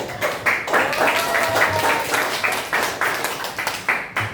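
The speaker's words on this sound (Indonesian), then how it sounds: "Luar biasa, tepuk tangan." Audience applause at the close of an Indonesian presentation: a sustained wash of hand clapping with rhythmic bursts, fairly close and steady, with some murmuring mixed in.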